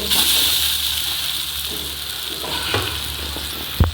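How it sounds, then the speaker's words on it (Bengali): Taro paste (kochu bata) frying in a pan, a continuous close sizzle with occasional stirring scrapes and a sharp clank of the utensil near the end. "এটাকে ভালো করে ভাজা করতে হবে"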